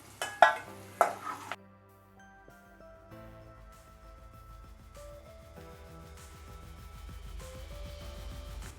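Ivy gourd (tindora) is sautéed in a pan for a curry, with a few loud spatula scrapes and clinks early on, then soft stirring under tonal background music.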